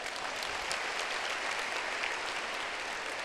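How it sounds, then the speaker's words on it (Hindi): An audience applauding at a Brahma Kumaris dedication ceremony in Shantivan, Mount Abu, with dense, continuous clapping from a large crowd, steady and moderately loud. "इन सब को डबल ताली बजाए।"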